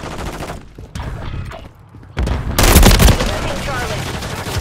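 Gunfire in the video game Call of Duty Modern Warfare 2: a short radio-style voice callout, then a loud burst of rapid automatic fire with booming impacts that fades into lingering battle noise.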